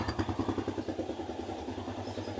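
A motorcycle engine runs steadily at idle after starting, a loud, close, rhythmic low putter with slight mechanical clatter throughout and no talking.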